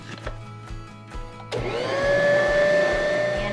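An electric mixer switches on partway through and spins up to a steady, loud motor whine with a rising pitch as it mixes flour into homemade hot pocket dough, after softer rhythmic thumps.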